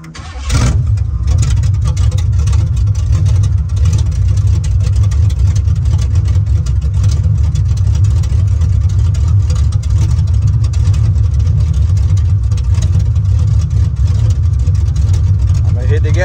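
A Chevrolet Monte Carlo SS with a carbureted engine idles steadily and loud after a cold start, a deep continuous rumble running throughout with a slight rise near the start.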